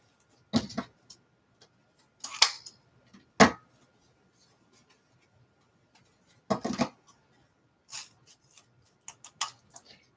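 Sharp scissors snipping through several lengths of ribbon at once for a Halloween wreath, a handful of crisp separate cuts with short pauses between them, close and clear with no talking.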